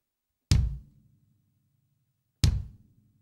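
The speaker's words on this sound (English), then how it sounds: "Okay, so that's the bass drum." Two deep, thumping bass drum kicks from a foot pedal land about two seconds apart, each a solid low thud with a short fading ring, alone in silence.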